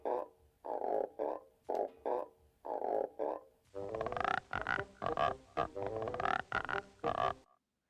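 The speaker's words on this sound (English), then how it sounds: "the sound effect artist was just rubbing one string across another string that was really tight in order to create the sound of frogs" Frog-like croaking made by rubbing one string across another tightly strung string, a series of rhythmic rasping bursts in short groups, loud and close with no talk.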